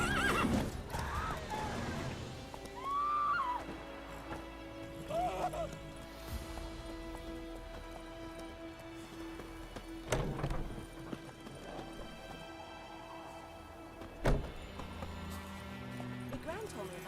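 Roach, a horse in The Witcher 3 video game, neighs and whinnies several times while hooves clip-clop at a steady pace, with sharp thuds and game dialogue over the top.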